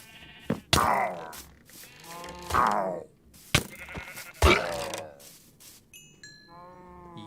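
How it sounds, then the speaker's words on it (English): Sheep in a Minecraft-style game bleat repeatedly, several loud, close, wavering calls spaced a second or two apart, with a few soft clicks and chimes in between and no talking. "Hey there, sheep."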